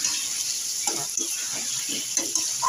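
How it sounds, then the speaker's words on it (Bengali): Water poured into fried, oil-separated spice paste for a Bengali fish head curry, giving a steady close hiss and splash with faint stirring clinks, no talking. "এবার দিয়ে দেবো আমি জল"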